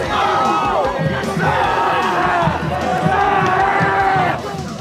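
High school football team, the Tigers, bursting through a big banner at midfield before a game, with a loud, continuous crowd roar and shouting voices throughout, dense and close.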